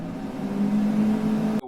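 Kitchen range hood exhaust fan switched to its high setting, giving a steady loud whirring drone with a constant low hum that ends abruptly near the close.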